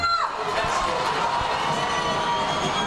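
A stadium crowd cheers loudly and steadily at a varsity high school football game between Tomah and Sparta, a dense sustained roar with scattered shouts.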